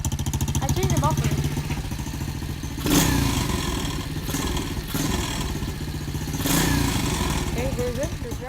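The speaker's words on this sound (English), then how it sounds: "As you can see, I'm gonna kickstart it. Hold on guys, let me start it." An SSR 125 dirt bike with a changed muffler runs cold after a kickstart, a close, loud, fast-ticking single-cylinder putter with two short revs, while someone talks over it.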